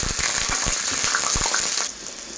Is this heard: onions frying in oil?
yes